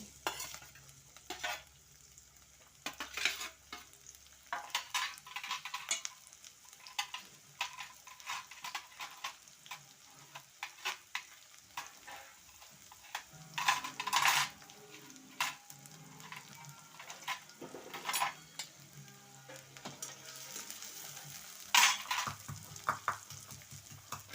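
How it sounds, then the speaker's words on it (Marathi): Cumin seeds and onions fry in hot oil for a home-cooked vegetable dish, with a steady sizzle broken by frequent stirring scrapes and clinks of a spoon against the pan, close and without speech. "आपलं तेल गरम झालं आपण टाकून घेणार आहे जिरं नंतर टाकून घेणार आहेत कांदे"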